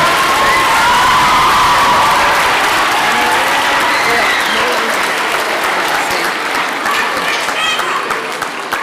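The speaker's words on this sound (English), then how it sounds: "Let's keep the round of applause going," A school debate audience in the UK, gathered for a Debate Mate motion on lowering the voting age to 16, fills the room with loud, sustained applause and cheering that tapers slightly toward the end.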